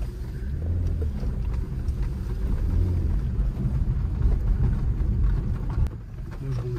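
A Porsche Cayenne drives off-road through water, a low rumbling engine and rushing, splashing wash heard from inside, steady and fairly loud throughout.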